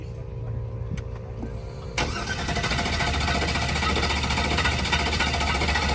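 A burnout car's engine rumbles loudly and steadily at a track, its exhaust note rising in intensity partway through, with people talking faintly underneath.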